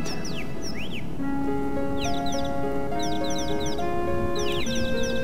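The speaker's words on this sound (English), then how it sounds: "if you get to this point, you can hear some birds chirping." Birds chirp and tweet in Final Fantasy VII's ruined city, repeated bright downward chirps coming in clusters over a steady ambient game backdrop with sustained tones.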